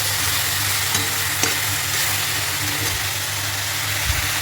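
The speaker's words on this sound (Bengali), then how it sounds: "এবার এর মধ্যে একটু চিনি দিয়ে দেবো, দিয়ে ভালো করে এটাকে নাড়াবো।" Chili powder and sugar are stirred in a hot pan for a Bengali home-cooked dish, giving a continuous close sizzle with light scraping strokes throughout and no speech.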